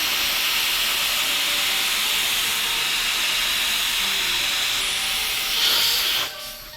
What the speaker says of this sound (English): So I like to let the air out this way because it takes a lot less time.